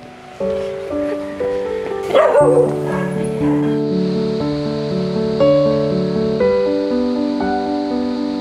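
A puppy yips and whimpers in short high bursts over a gentle, steady musical backdrop, close and moderately loud, with no talk.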